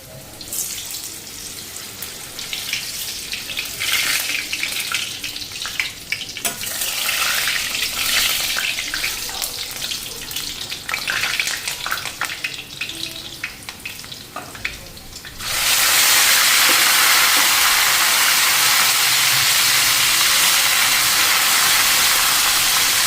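Potatoes hit hot oil in a pan, scraping and stirring at first, then a loud, steady hiss of frying that holds unbroken to the end.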